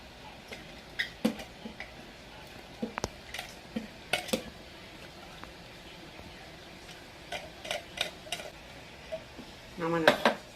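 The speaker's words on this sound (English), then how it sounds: "I'm going to toss it around and see if that's about the right amount of carrots that I want to use." Coleslaw with shredded cabbage and carrots tossed in a bowl, giving scattered soft clinks and rustling scrapes in short bursts with quiet gaps, a clearer clatter near the end.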